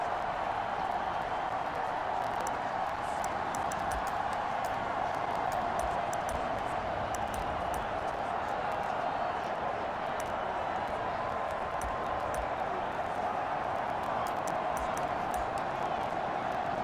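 A stadium crowd in Madden NFL 23 keeps up a steady, even roar with scattered claps, a broadcast commentator talking over it.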